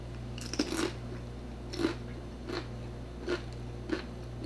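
Crunchy bites on a tortilla chip topped with kimchi guacamole, about five crisp snaps and chews spaced roughly a second apart, close and fairly quiet over a steady low hum.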